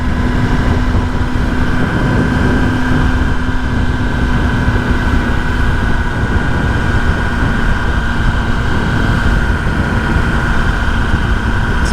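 A 2023 ZK-10RR motorcycle ridden through a neighborhood, a steady loud engine drone with wind rush, holding an even tone throughout.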